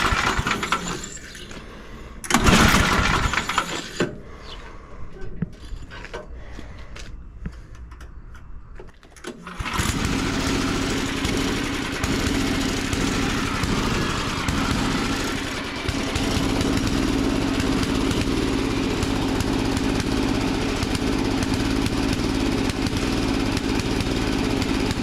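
A small engine with its choke adjusted sputters through a brief burst, then catches and settles into a steady, fairly loud idle that runs unbroken to the end.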